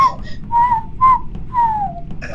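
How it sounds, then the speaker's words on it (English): A person whistles a few short, clear notes in quick succession, some sliding downward in pitch, loud and close over faint background noise. "I heard a whistle."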